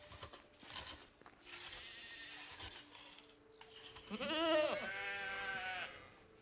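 Sheep bleat in the video game Medieval Dynasty, a few quavering animal calls rising over a muffled game soundscape, the loudest cluster late and close.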